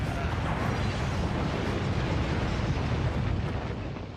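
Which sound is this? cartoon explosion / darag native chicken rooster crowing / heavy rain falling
cartoon explosion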